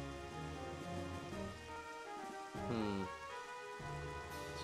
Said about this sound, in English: Huey can't really do anything to it, and Kurama can, but the rain is in the way.